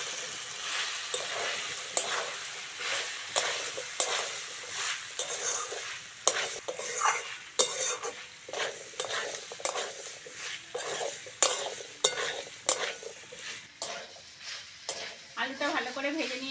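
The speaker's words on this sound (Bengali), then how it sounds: "আলুটা ভালো করে ভেজে নিয়েছি" Cut potatoes frying in a pan for ghugni, stirred with a utensil: repeated sharp scraping and clattering strokes come at an irregular, busy rhythm over a softer sizzle, loud and close.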